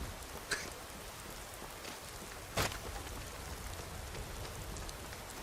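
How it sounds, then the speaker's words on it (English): Steady rain falls in Skyrim Special Edition, a dense even patter with no voices, broken by two brief louder splashes or drips near the start and middle. "That's quite a bright sunrise considering it's raining."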